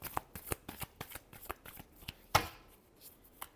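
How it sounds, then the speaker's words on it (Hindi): Tarot cards shuffled by hand for an Aries astrology reading, a run of quick, crisp riffling bursts in an irregular rhythm, close and fairly quiet, with no talk over them. "Last shuffle."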